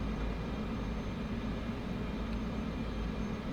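An air ambulance plane taxis slowly toward the runway at Courchevel in the French Alps in Microsoft Flight Simulator 2024, its engine a steady low drone throughout with no talk.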